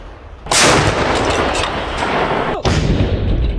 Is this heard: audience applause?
no